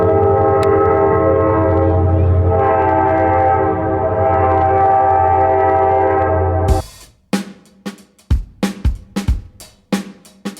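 A Royal Gorge Railroad train in Colorado sounds a loud, sustained horn for several seconds, then the horn cuts off and the wheels give a rhythmic, sharp clacking over the rails.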